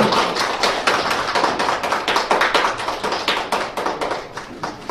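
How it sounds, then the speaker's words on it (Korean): Audience applause at an award ceremony for a UCC video contest, a dense, steady wash of many hands clapping that fills the room without pause. "큰 박수로 축하해주시죠"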